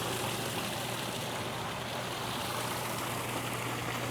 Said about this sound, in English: hearing this water here is definitely amazing to have